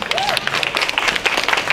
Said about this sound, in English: we get a big round of applause